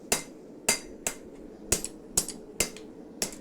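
A hammer forges a blade, landing about eight sharp, ringing metallic strikes at a steady, unhurried pace, close and loud against a faint background hum.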